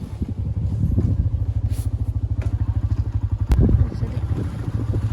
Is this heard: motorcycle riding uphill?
yes